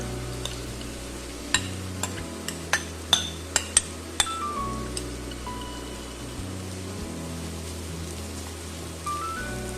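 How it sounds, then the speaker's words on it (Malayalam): Chopped breadfruit (kadachakka) tipped into a pan of popped mustard seeds for Kerala thoran, heard as several sharp clinks and knocks of a utensil on the pan over a low, steady background crackle. "കടുക് പൊട്ടി കഴിയുമ്പോഴേക്കും നമുക്കിതിലേക്ക് അരിഞ്ഞു വെച്ചിരിക്കുന്ന കടച്ചക്ക ചേർത്ത് കൊടുക്കാം"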